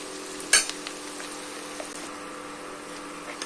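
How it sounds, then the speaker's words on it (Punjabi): Onion and garlic frying in a pan for kadhi pakora, a soft steady sizzle close by with one sharp clink near the start and faint stirring scrapes, no talk. "ਪਿਆਜ਼ ਤੇ ਲਸਣ ਵੀ ਚੰਗੀ ਤਰ੍ਹਾਂ ਭੁੰਨ ਲਾਂਗੇ ਜਿੰਨਾ ਚਿਰ ਬ੍ਰਾਊਨ ਕਲਰ ਨਹੀਂ ਹੁੰਦਾ"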